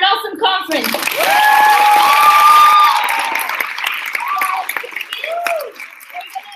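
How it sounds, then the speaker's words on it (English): An audience claps at a conference opening ceremony in a school hall in Panama, sustained clapping with a few cheers and whistles rising and then tapering, while a voice speaks over it. "let's just clap for an awesome conference"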